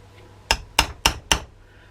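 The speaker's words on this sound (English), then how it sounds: "got to try not to hammer it in so deep" A leather tool is hammered into leather while making an arrow quiver, four sharp, evenly spaced strikes close by, each a crisp knock with a quick decay, in a quiet room.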